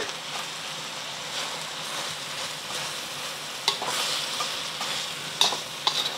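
Shredded cabbage stir-fries in a hot pan for moo shu pork, giving a steady, close sizzling hiss broken by a few sharp utensil clicks and scrapes.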